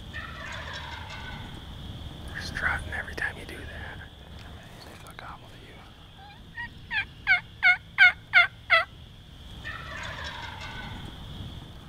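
A wild turkey gobbles during a Michigan spring hunt with toms strutting nearby. A rapid burst of about six loud, evenly spaced calls stands out, with soft whispering before and after.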